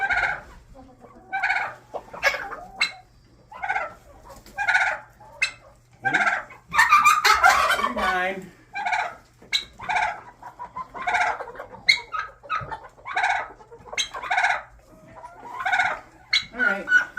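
A flock of chickens in a backyard coop clucks and squawks in repeated close bursts, with a louder flurry of agitated calls in the middle and someone talking among them.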